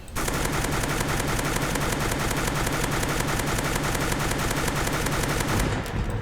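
A SCAR rifle in the Mad City video game fires in sustained rapid automatic bursts, a loud, even machine-gun rattle that runs for about six seconds before cutting off, with no voices.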